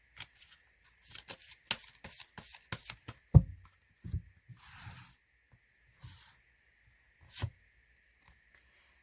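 Tarot cards being shuffled and handled during a reading, with a run of soft riffling taps and brushing flicks, a few sharper thumps and hissy swishes, close and fairly quiet, no talking.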